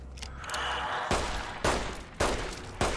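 Pistol shots in Fallout: New Vegas, Dead Money, with several sharp gunshots spaced about half a second apart, loud and close, each followed by a short ringing tail.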